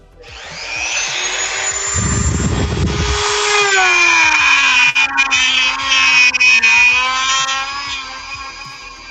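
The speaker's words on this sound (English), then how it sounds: "Pardon the drill noise." A close power drill whines steadily for several seconds, its pitch shifting slightly as it grinds into a plastic action figure head, with a brief rough burst near the start.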